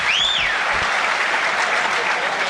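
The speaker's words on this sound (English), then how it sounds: "Roundly applauded by the home crowd" A home crowd at a Wrexham football match against Ipswich Town applauds steadily, a dense, even wash of clapping from a large stadium audience, with a brief rising whistle at the start.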